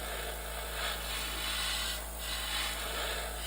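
An airbrush sprays paint in a soft, steady hiss of air that swells and eases in short passes, close by with no talking over it.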